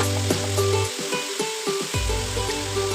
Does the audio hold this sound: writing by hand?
no